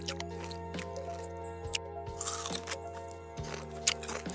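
Customers crunch into panipuri at a village stall, with repeated close crisp bites and soft wet squishes between them over a low steady background hum.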